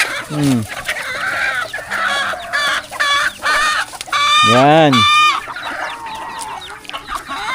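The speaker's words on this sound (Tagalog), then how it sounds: "Grabe yung manok namin dito, Porbiyag oh. Bilis bilis dumami." Chickens on a farm cluck and squawk up close in a flurry of calls, with one long drawn-out rooster-like crow in the middle and a brief spoken word near the start.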